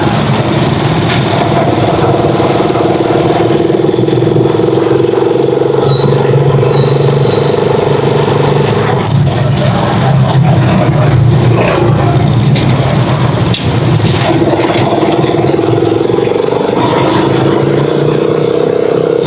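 A Rusi Chariot 175 motorcycle engine idles steadily at a gas station, a loud continuous rumble throughout with passing traffic noise in the background.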